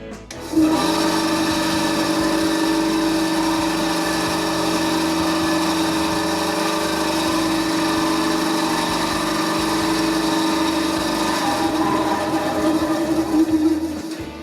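A Parkside PBS 350 A1 band saw with a 350-watt motor runs unloaded, giving a steady mechanical whir and hum at close range, constant throughout with no speech.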